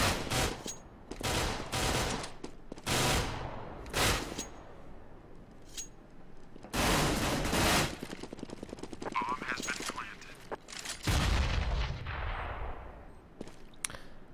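Video game firefight with a flashbang grenade: repeated loud bursts of gunfire and blasts come close together, some with ringing tails, while a voice talks over the action.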